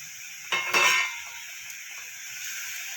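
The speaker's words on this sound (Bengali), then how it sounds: "দিয়ে মশলাটা আমি ভালো করে কষিয়ে নেব।" Ground spice masala frying and stirred in oil in a pan, with a steady sizzle and a brief burst of scraping and clinking around the middle, no voices.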